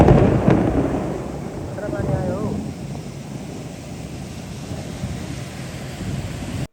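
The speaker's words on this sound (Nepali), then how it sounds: "अब पानी पनि ड्याङ्ग परिरहेछ।" Heavy rain with rumbling thunder, a deep loud roll at the start fading into a steady low wash of rain and wind, with a voice faintly present underneath.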